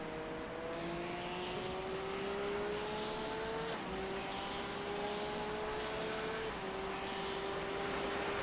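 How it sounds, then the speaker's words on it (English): A hypercar's engine whines at high revs during a 6 Hours of the Glen endurance race in a racing game, its pitch climbing steadily with a couple of gear shifts as it closes in fast. "Hypercar coming fast."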